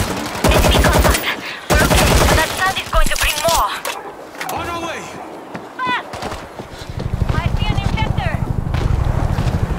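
Bursts of machine gun fire from the World War Z video game, set in Tokyo, with rapid repeated shots in loud stretches and a steady rattling burst near the end, mixed with in-game voices and talk.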